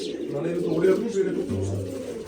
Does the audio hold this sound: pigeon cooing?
yes